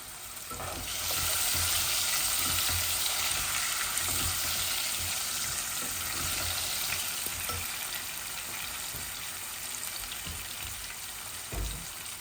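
Potatoes and chicken fry in a generous amount of oil for a Bangladeshi chicken-potato bhuna, giving a steady, close sizzle that runs throughout with occasional stirring clicks and a brief bump near the end.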